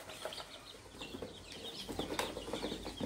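Chicks and chickens in a farm coop cluck and peep continuously, a busy overlapping flock chatter at moderate distance with faint rustling.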